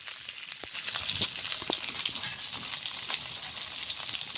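Pointed gourd (potol) pieces seasoned with salt and turmeric fry in oil, giving a soft continuous sizzle with scattered small pops and crackles, close and fairly quiet, with no talking.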